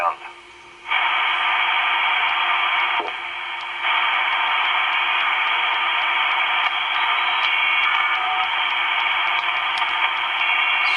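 Shortwave radio hiss and static from a US military AN/PRC-104 HF SSB manpack transceiver, shifting as it tunes across the band, with faint garbled voices and brief drops in the noise.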